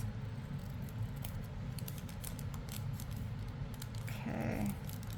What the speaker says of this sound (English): And cut the sides.